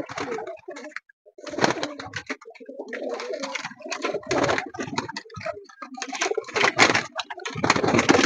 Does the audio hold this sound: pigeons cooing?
yes